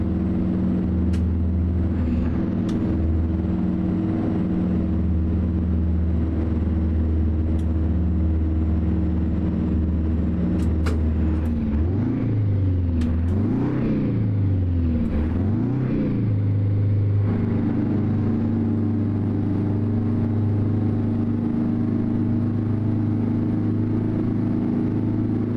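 A GMC 70 Series cabover truck engine in American Truck Simulator drones steadily and loudly, its pitch dipping and rising through a few wavering surges midway before settling back into a sustained, even hum.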